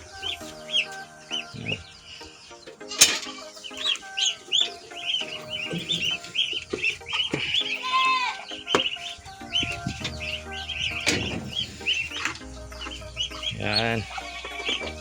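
Muscovy ducklings peep and chirp busily at feeding time, a dense, close chorus of high calls with a few louder squawks and fluttering sounds.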